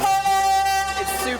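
A train crosses the Nine Arches Bridge in Ella, Sri Lanka, sounding a loud, sustained horn blast that dominates the moment, with tonal blaring close and steady for over a second.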